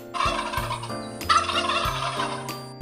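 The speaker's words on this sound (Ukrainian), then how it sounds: "Індик каже гик-гик." A turkey gobbles in a long, rapid, warbling burst, close and clear over a faint steady background tone.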